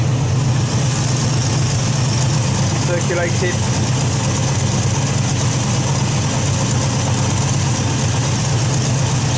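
A TVR Chimaera with a Serpentine V8 idles loud and close, a steady low rumble with light tappet clatter just after an oil change, while someone talks over it briefly.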